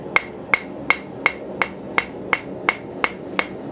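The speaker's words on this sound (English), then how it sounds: "It's all about doing it with a hammer on these shoes." A farrier hammers a metal horseshoe, shaping it to the angle of the horse's foot: ten sharp, ringing strikes at an even, brisk rhythm, close and loud, with no talking.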